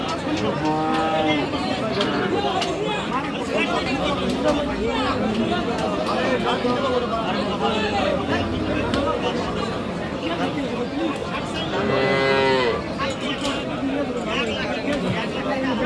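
Friesian heifer cattle moo loudly and close by at a crowded livestock market in Dinajpur, with two or three long drawn calls standing out over constant crowd chatter and people talking nearby.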